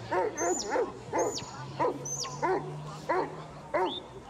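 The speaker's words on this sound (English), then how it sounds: "What a couple of magnificent huntaways." Huntaway sheepdogs barking at the New Zealand Rural Games sheep herding event, deep repeated woofs in an irregular series of about eight barks over a steady engine-like hum, with occasional higher whistles between them.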